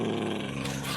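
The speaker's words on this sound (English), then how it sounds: "Oh, that's a dog." A dog growling low and continuously at close range, a rough rumbling snarl lasting about a second with no speech over it.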